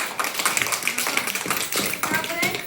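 Children clap their hands during a classroom learning activity, a quick, uneven run of sharp claps that carries on steadily under chattering voices.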